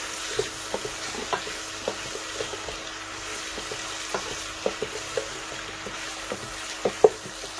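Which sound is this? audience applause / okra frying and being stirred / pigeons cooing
okra frying and being stirred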